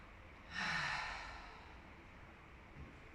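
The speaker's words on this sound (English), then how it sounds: "One final inhale." One slow, deep inhale through the nose, close and soft, swells and then fades in a quiet room during a guided breathing session.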